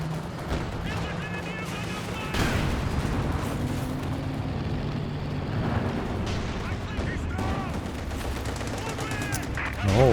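Katyusha rocket artillery barrage in the World War II strategy game Company of Heroes 2, a dense rolling wash of blasts and gunfire that swells loudly, with a voice talking over much of it.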